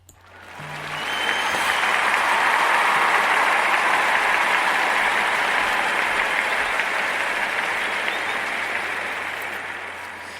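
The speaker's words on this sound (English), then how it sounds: "let's give her a round of applause for work well done" Studio audience applause swelling up quickly, then holding as a loud, dense, continuous clapping for several seconds before tapering slightly toward the end, with a faint low hum beneath.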